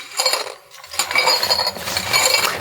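7-inch off-road lights shifting inside their shipping box, bright clinking and rattling like loose glass, in close bursts with a brief lull near the start.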